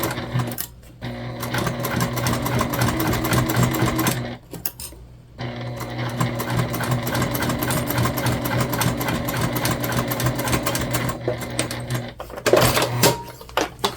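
A sewing machine top stitches a bag in a loud, close, rapid mechanical chatter, with brief pauses near the middle and toward the end and no talking.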